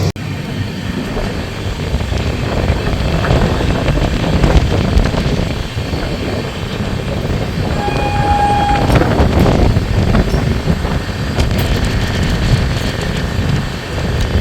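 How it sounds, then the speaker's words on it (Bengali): Steady, loud rumble and rattle of the 12318 Akal Takht SF Express heard from inside a 3AC coach, with wind noise and a brief faint whistle-like tone midway. "এখন আমাদের ট্রেন কিন্তু বর্ধমান ক্রস করলো, বর্ধমান জাংশন"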